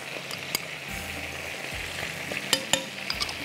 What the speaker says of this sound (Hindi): थोड़ा सा इसको करते हैं फ्राई